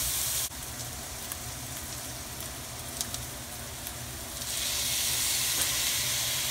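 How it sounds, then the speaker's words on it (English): Sweet Vidalia onion and garlic sizzling in olive oil in a pan, a steady close hiss of frying that swells a little louder toward the end, with no talking. "Onions and garlic and olive oil, and this is a sweet Vidalia onion. Cook it till it's translucent"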